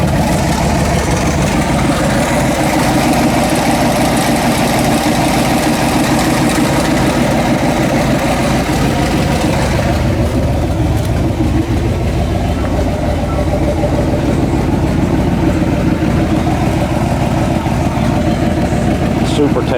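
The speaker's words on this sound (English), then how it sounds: "the car fires up and runs and no smokes" A turbocharged Chevrolet Nova engine idles steadily with a low, rumbling drone, close and continuous, while a voice seems to speak faintly over it at times.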